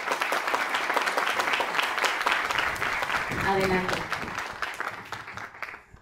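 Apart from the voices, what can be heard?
audience applause at plaque unveiling ceremony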